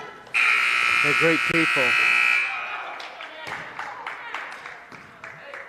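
Loud, steady electronic buzzer at a high school JV/varsity boys basketball game ends the third quarter, holding for about two seconds over a gym crowd and announcer commentary before fading into chatter.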